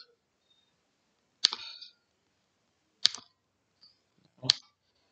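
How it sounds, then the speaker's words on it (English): Three sharp separate clicks, each with a short rattling tail, spaced over a few seconds, as an arrow key is pressed during JavaScript game development, close and isolated in a quiet room. "I'm actually clicking my arrow"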